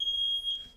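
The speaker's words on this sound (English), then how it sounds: "My alarm batteries went out." A smoke alarm with dead batteries gives a single short, sharp high chirp, fairly close and alone.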